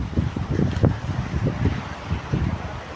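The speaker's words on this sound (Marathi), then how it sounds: "वारा आहे भरपूर" Strong wind buffets the microphone on a seashore on a morning walk by the waves, a steady low rumbling roar with gusty swells throughout, close and fairly loud, with no talk.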